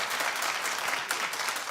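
A studio audience breaks into dense, steady applause that runs loud and unbroken through the whole moment.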